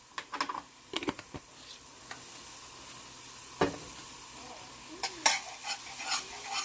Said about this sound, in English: I'm just going to add maybe a tablespoon of garlic. We're going to let that saute down with the butter.